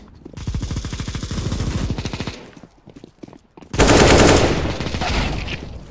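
Rapid automatic gunfire in Battlegrounds Mobile India comes in two loud, close bursts of fast, evenly spaced shots separated by a short lull.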